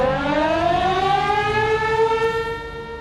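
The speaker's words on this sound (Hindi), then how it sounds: "पाकिस्तान के शहरों में अलर्ट सायरन की आवाज गूंज रही है" Civil defense alert siren wailing in a Pakistani city, a loud sustained rising tone with strong harmonics, steady and alone with no voices.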